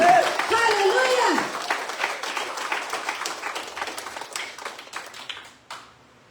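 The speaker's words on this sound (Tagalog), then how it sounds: "Palakpakan po natin ang Diyos" Church congregation clapping and cheering in praise of God at a church anniversary service, a dense burst of applause that starts loud with a raised voice over it and gradually thins and fades over several seconds.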